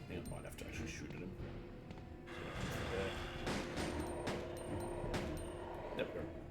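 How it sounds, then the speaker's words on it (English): Video game gunfire crackles in scattered bursts of sharp shots, some rapid and clustered, fairly quiet overall and mixed with a voice talking. "I might have to actually shoot at him"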